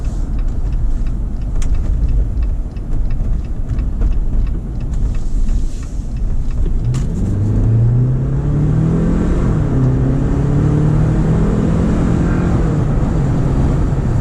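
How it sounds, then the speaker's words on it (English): A 2023 Jeep Wrangler 4xe Sahara in hybrid mode pulls out of a corner, its engine note climbing steadily as it accelerates under a constant rush of road and wind noise heard from inside the cabin. "Take this corner and we'll step on it a little bit."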